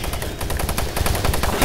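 Rapid, loud bursts of explosive blasts from barrels blowing up in the video game Doom 3 crack repeatedly in quick succession, dense and close, with no talking.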